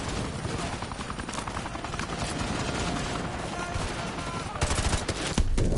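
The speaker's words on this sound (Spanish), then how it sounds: "El helicóptero, ¿no?" A helicopter in Call of Duty: Modern Warfare II gives a dense, continuous rotor roar, mixed with bursts of machine-gun fire that grow louder near the end, while a player talks over the action.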